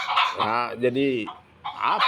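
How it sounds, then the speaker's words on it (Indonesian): A chicken clucks in short harmonic bursts near the middle, while people talk over most of it in an indoor setting during a church discussion. "Ada ayam lagi nih sering"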